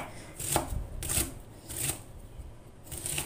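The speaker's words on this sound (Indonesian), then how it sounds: "Dan sekarang kacang panjangnya ini akan saya iris kecil-kecil ya" A knife slices long beans into small pieces on a board, faint and close, with soft chopping thuds coming in an uneven rhythm of roughly one cut every half second.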